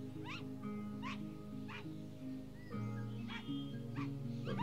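A dog named Rufus in the game Into A Dream gives repeated short yipping barks and whimpers, about six sharp calls spaced through the clip, heard over a steady musical drone.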